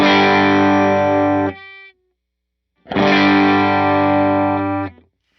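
An electric guitar plays through an HX Stomp effects preset, two loud sustained distorted chords each ringing about two seconds before being cut off, with a short silent gap between them.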